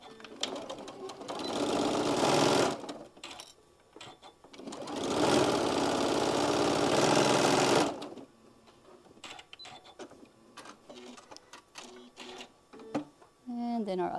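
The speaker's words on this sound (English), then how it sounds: "we're going to stitch that closed with 1/4 inch all the way across." A sewing machine stitches a drawstring bag seam in two loud, steady bursts of rapid mechanical whirring, close up, separated by quieter handling sounds and pauses.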